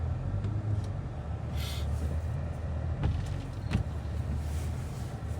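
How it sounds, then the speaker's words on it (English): A Nissan Altima with transmission trouble, reversing at an angle on a hill, its engine held at a steady, strained drone under heavy throttle, with faint clicks and rattles over a low, continuous rumble. "I have to give it a lot of gas for it to move."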